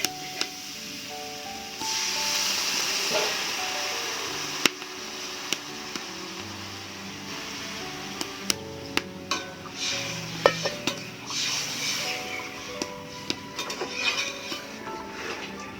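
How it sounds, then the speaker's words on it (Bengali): Vegetable curry in a pan being stirred after water is added: a spoon scrapes and clinks against the metal pan with soft sloshing, in an irregular rhythm of taps and rubs, close by, with no talking. "জল দিয়ে দিয়েছি। এটাকে নেড়ে চেড়ে একটু ঢাকা দিয়ে রাখবো।"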